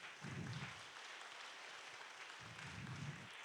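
A congregation gives a brief round of applause, faint and distant, a steady wash of scattered clapping with low murmuring voices rising at its start and again later.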